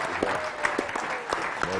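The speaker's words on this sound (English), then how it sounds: "Big round of applause for that man right there, Za'Darius Smith, everybody." An audience applauds a talk show guest, a short burst of clapping with a few whoops over it, fairly loud and close.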